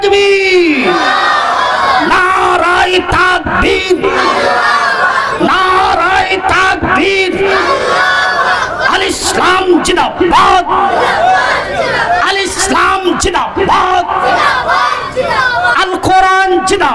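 A large crowd at a Bengali religious sermon (waz) chants Nara-e-Takbir in loud, rhythmic unison responses, repeated calls swelling and falling throughout.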